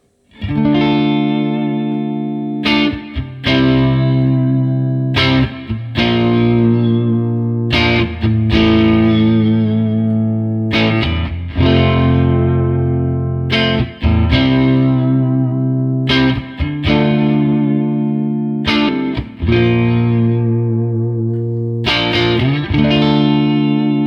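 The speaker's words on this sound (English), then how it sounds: "Let's go back to some clean tones, neck pick up." An electric guitar on a clean tone through the neck pickup, a Fralin Vintage Hot, plays sustained chords, one after another, with warm ringing tones and a little shimmer, each chord left to ring before the next.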